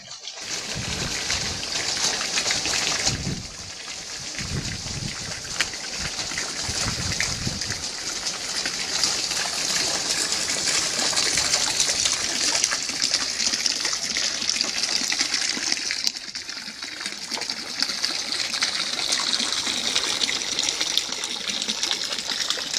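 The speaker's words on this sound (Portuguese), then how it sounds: "a ver a roldana submersa da bomba a funcionar numa altura em que o poço tinha pouca água" Water gushes and trickles steadily from a homemade wind-powered pump with a submerged pulley, drawing from a well running low; a continuous splashing wash fills the whole stretch at close range, with a few low knocks early on.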